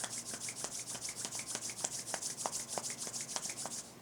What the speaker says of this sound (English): before you open your eyes, rub together your hands